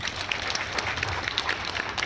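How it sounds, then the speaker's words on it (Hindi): Audience applause at a Hindi-language business plan seminar, a dense, fairly steady patter of many hands clapping at moderate volume without a break. "इसके लिए आप अपने लिए एक जोरदार ताली बजाइए सर"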